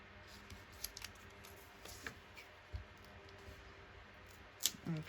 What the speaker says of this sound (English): I usually just cut them with my scissors.